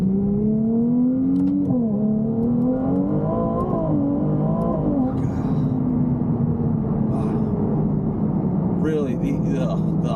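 A Ferrari 296 GTB accelerating hard on a test drive, its engine note climbing and shifting through gears as a loud steady in-cabin roar, with someone talking over it.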